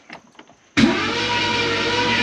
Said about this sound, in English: She's turning over and she sounds okay.